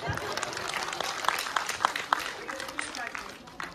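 Audience clapping at a school annual day celebration, a continuous, moderately loud spatter of applause with a few sharper claps standing out, and voices mixed in beneath.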